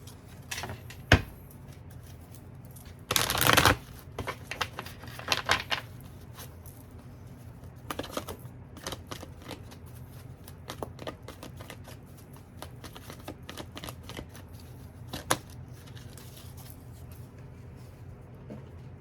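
Tarot cards are shuffled close up in a quiet room, soft riffling patters and scattered light flicks and taps, with one louder burst of riffling near the start.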